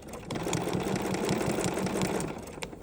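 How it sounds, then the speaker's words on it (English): A domestic sewing machine runs a default straight stitch while appliquéing fabric pieces, a steady rapid needle chatter with a motor whir lasting nearly three seconds, close and moderately loud with no talk. "I'm just going to do my default straight stitch"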